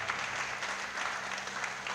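Church congregation clapping in a steady, continuous wash of applause, moderately loud and even throughout with no clear voices on top.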